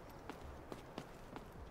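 Quick, evenly spaced footsteps patter faintly in the first-person shooter Delta Force Hawk Ops, with no voices over them.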